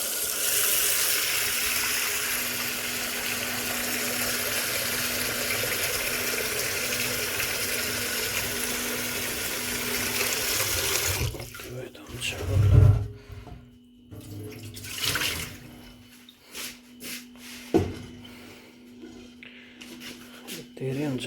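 Tap water running into a pot for boiling thukpa, a steady gushing stream for about eleven seconds that then stops, followed by clunks and handling noises.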